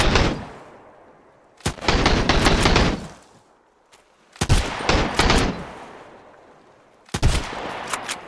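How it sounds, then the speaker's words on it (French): Heavy-weapon fire in the survival game Sunkenland comes in three loud, close bursts of rapid automatic shots, with short quiet gaps between them. "Ça tire à l'arme lourde."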